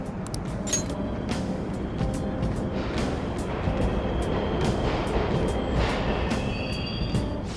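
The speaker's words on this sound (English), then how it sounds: "The trains are totally running!" Subway trains run in the Persona 5 Royal video game, a continuous rumbling roar with rhythmic clacks and metallic clinks, steady and fairly loud throughout.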